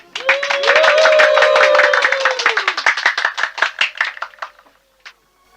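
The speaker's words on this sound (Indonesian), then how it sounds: "Tepuk tangan riuh membahana tak henti-hentinya menyambut kata-kata sambutan sang Ramapati" A burst of applause from a small group, dense clapping at first, then thinning into scattered claps before fading out.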